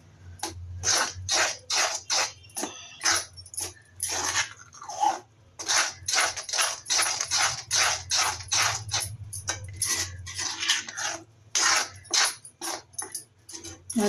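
Spoon stirring green chili thokku with added jaggery in a pan, a steady run of close, rhythmic scraping and sticky crunching strokes with short pauses between, no talk.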